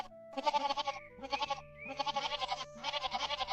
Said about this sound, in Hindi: और बकरी के बच्चे फिर शोर मचाना शुरू कर देते हैं।